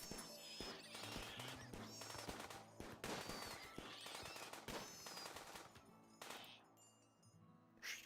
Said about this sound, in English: hopefully Deb gets a little skill from firing that submachine gun.